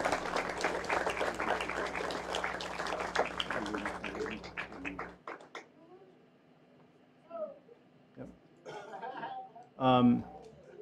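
Warm applause for caregivers rises from an indoor audience at a gathering, dense clapping lasting about five seconds before stopping abruptly, followed by quiet room sounds and brief bits of speech.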